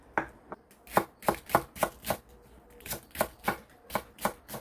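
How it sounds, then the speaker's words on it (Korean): Vegetables, potato among them, are sliced for sujebi soup with a knife on a cutting board. About fifteen crisp, close chops fall in a steady, slightly uneven rhythm with no talking. "수제비에 넣을 야채를 썰어 넣었고요"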